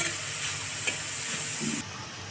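Onions for arbi sabzi frying in a pan, heard as a steady close sizzle and hiss with a faint stir or scrape partway through, dropping in level near the end.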